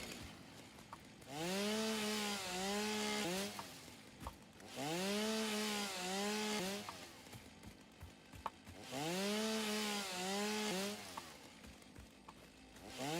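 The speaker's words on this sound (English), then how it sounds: "Time for the chainsaw." Chainsaw felling trees in the video game Satisfactory: three long revving bursts of a buzzing motor, each rising and dipping in pitch while cutting, separated by short pauses, fairly close and steady.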